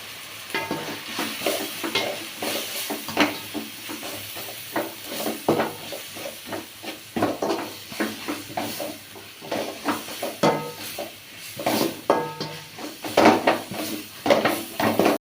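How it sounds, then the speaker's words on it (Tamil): Mushrooms stirred in a hot pan for mushroom gravy, with repeated scraping spoon strokes against the metal over a continuous sizzle, close and uneven in rhythm, no voices. "காளானை போட்டுக்கிடுவோம் கிண்டி விட்டுக்குவோம்"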